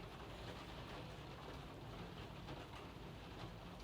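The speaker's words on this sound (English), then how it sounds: "Can you hear that rain? It's a terrible rain this morning." Heavy rain falls steadily outside on a morning, a dense, continuous hiss with no gaps, fairly faint and even throughout, with no voices.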